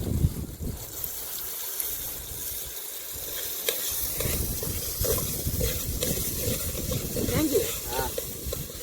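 Onions and tomatoes sizzling in a pan for Maggi noodles, a steady hissing fry with scraping stirs, under casual family talk nearby.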